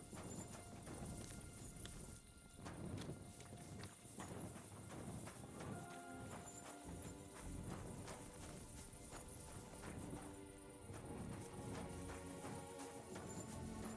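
Horse hooves clip-clop steadily through a busy in-game soundscape of Kingdom Come Deliverance, with footsteps and ambient clutter throughout and a faint whinny possible beneath the mix.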